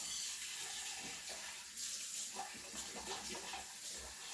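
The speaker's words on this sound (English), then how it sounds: "put some water in that." Water runs from a tap during lye soap making, a faint, steady hiss and splash that continues evenly without voices.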